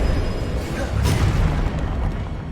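A disarming Expelliarmus spell cast in Hogwarts Legacy on Xbox: a single deep, booming burst near the middle over a low rumbling backdrop.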